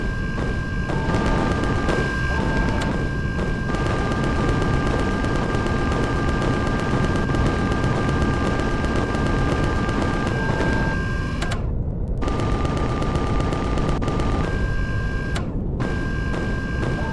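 Rapid, sustained weapon fire from a battle against attacking drones in the space survival game Empyrion, loud and dense for most of the stretch, broken by a couple of brief pauses, with steady electronic tones running underneath.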